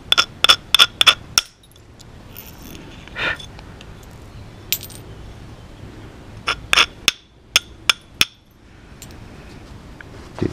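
A stone flake's edge is ground with an abrader, giving sharp, clicky scrapes in quick bursts at the start and again near the end, with quieter gaps between them and no talking.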